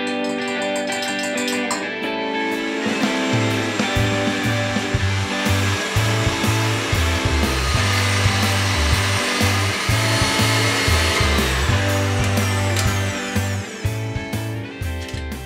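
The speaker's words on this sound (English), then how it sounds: "all we're doing is mixing this on high until everything gets nice and airy and frothy" An electric mixer whips cream on high speed for a New York cheesecake, a loud continuous motor whine with a pulsing rhythm of beaters in the bowl, close and steady with no talk.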